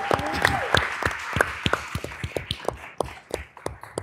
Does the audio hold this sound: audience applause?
yes